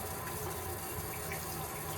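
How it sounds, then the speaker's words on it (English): Water runs steadily from a bathroom faucet during a shave, a continuous close hiss and splash that stays even throughout with no talking. "I'm just going to turn the faucet off"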